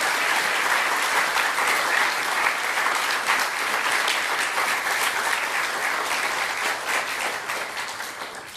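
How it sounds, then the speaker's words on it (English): Warm audience applause at an MFA graduation reading, dense sustained clapping from a full room that holds steady for several seconds and then begins to thin and fade toward the end. "I hope that you give her a lot of warm applause"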